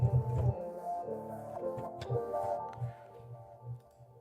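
Legalize pad preset from the Native Instruments Glaze vocal plugin plays soft, layered tones with sustained notes that shift and swell, low pulsing throbs underneath, with no talking.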